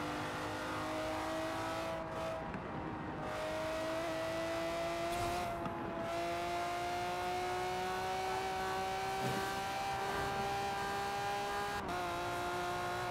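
A Lamborghini Murcielago LP670-4 SV V12 in Forza Horizon 4 revs in long rising pulls broken by brief gear-shift dips, loud and continuous with rushing road noise.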